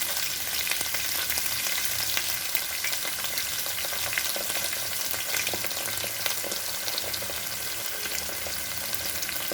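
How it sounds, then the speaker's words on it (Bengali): Ginger paste fries in a pan over a low gas flame, making a dense, constant sizzle with soft stirring scrapes beneath it. The sound is close and even throughout, with no voices. "একটু নেড়ে চেড়ে নেব"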